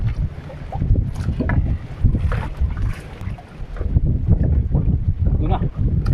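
A small boat's motor runs as it cruises over shallow water toward islands, a steady low rumble mixed with heavy wind buffeting the microphone, loud and continuous with brief dips.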